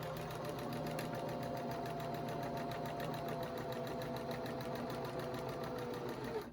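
A sewing machine runs a continuous straight stitch through pillow fabric, its needle hammering in a fast, even rhythm close by, then stopping abruptly at the very end.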